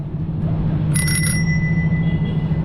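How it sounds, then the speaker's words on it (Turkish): A bicycle bell rings once with a bright brief double ding, its tone lingering faintly over steady low road rumble, cycling along the Bosphorus shore in Istanbul. "burada zil çalmayalım"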